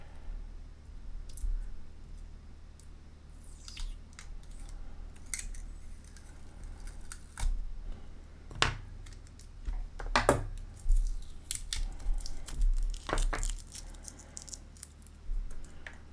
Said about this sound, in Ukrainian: Дуже обережно треба порізати скотч.